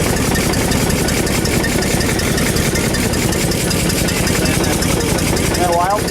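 An old Ford engine runs steadily and loud close by, with a rough idle and rattling mechanical clatter, its speed raised slightly as the choke knob is pushed in.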